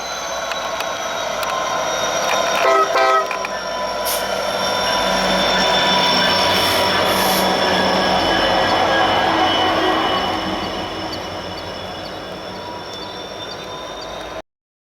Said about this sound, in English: a helper set emerges from the tunnel heading westbound with its headlights shining bright